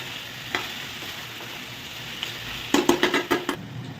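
Food sizzling gently in a pan while being mixed, with faint scrapes early on and then a burst of quick, sharp stirring clatters near the end; no voices.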